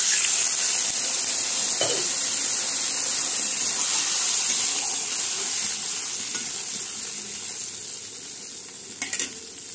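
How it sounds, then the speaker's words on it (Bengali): Water poured into a pan of spiced potato curry hisses and sizzles steadily and loudly for several seconds, easing slightly toward the end with a few small clinks. "এবারে আমি জল দিয়ে দিলাম।"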